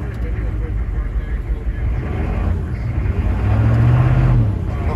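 A bucket truck's engine runs with the PTO engaged, a steady low rumble that swells louder near the end, with people talking over it.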